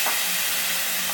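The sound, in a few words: pabda fish frying in hot oil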